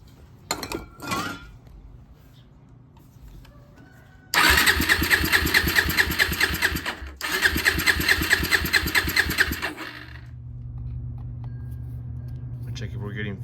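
An abandoned Suzuki ATV with a broken carburetor after a spray of carb cleaner: a couple of short cranking attempts, then the engine catches and runs loudly at a high, rapid idle, cuts out briefly, restarts, and settles into a quieter steady running hum.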